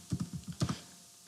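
Keys tapped on a computer keyboard while writing code, a quick run of close, crisp clicks in two short bursts, ending with one sharper keystroke.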